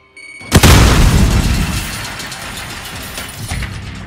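A grenade goes off in a shooter video game with a sharp, loud blast. A heavy rumbling roar follows and slowly tapers away, and a smaller thump comes near the end.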